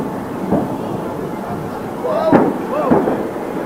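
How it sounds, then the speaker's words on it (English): An aircraft engine explodes during takeoff, heard as several booming bursts over a rumbling background, with faint voices underneath. "This plane suffers a massive engine explosion right during takeoff."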